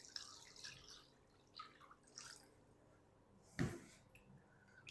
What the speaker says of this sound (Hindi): अब हम क्या करेंगे, इसके अंदर ढेर सारा पानी डाल देते हैं